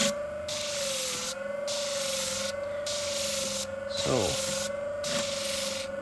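Convex edge of left-handed shears being sharpened along its full length, a steady continuous grinding rub with a sustained whine, broken by brief rhythmic pauses, close and fairly loud, with a short spoken word near the start.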